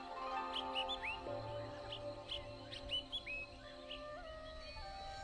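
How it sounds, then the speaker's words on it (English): Birds chirp and whistle in the distance on a quiet mountain trail at dawn, short bright calls scattered over a faint steady hum. "all you can hear are the sounds of your own footsteps and the birds"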